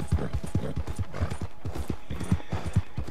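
Horse hooves clip-clop in a steady walking rhythm in Red Dead Redemption 2, close and moderately loud, with faint other game sounds.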